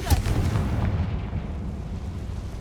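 A fiery Confringo spell explosion in Hogwarts Legacy bursts with a loud, low boom right at the start, followed by a rolling rumble that slowly fades.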